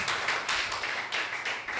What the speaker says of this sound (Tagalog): Siguro po ay bigyan natin muli ng malakas sa palakpak ang Diyos.